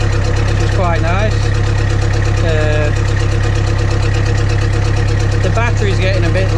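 A Land Rover Series 3 engine idles with a loud, steady low rumble and throb, and someone talks over it at intervals.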